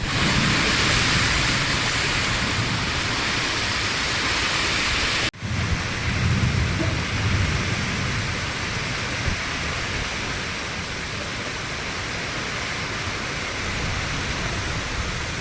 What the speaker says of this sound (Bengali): অতিরিক্ত ঝড় হচ্ছে আর বৃষ্টি হচ্ছে